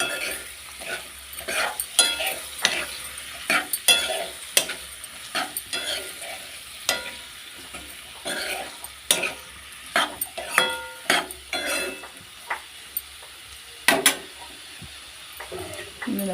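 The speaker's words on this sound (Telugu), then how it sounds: "కట్ చేసి పెట్టుకున్న పొట్లకాయ ముక్కలను అయితే వేసుకుంటా. ఈ విధంగా కలుపుకోవాలి." Ridge gourd pieces stirred in a hot frying pan: a spatula scrapes and clacks against the metal in quick irregular strokes over a faint, steady sizzle, close and moderately loud.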